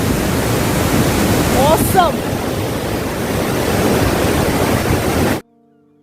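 Loud steady rushing spray from a waterfall near the Dawki river in Meghalaya, a broad continuous roar with a brief voice over it before it cuts off.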